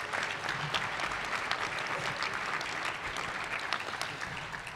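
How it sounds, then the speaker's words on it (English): Steady, full applause from an audience at a candidates' meeting for the board of directors of United States Aquatic Sports, many hands clapping evenly for several seconds without letup. "How about a round of applause for our nominated candidates?"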